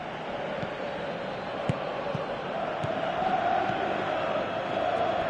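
A crowd cheering in a football video game on PS4, a steady broad roar of stadium noise holding at an even level throughout, with faint thuds and occasional higher tones inside the din.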